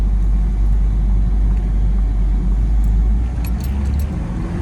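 Toyota MR2 running down the road, a steady low engine drone and rumble heard from inside the car, with faint rattles near the end.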